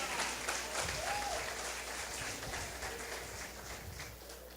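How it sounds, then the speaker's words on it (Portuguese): Church congregation claps during a Portuguese-language worship service, a steady, fairly faint wash of applause filling the room throughout. "Aplauda o Rei."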